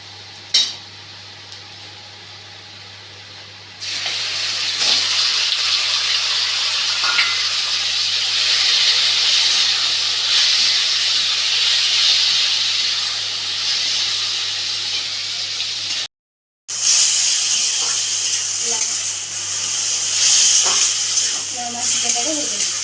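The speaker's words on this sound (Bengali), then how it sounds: "মা চিকেনটাকে ভেজে দিচ্ছে" Marinated chicken frying in a pan over browned onions gives a loud, steady sizzle and hiss close by, with a brief break and a few light utensil clinks from stirring later on.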